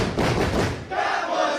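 Wrestling crowd at a Beyond Wrestling independent show, cheering in a packed hall after a women's match: a loud, dense roar of many voices that dips briefly near the middle, then swells again.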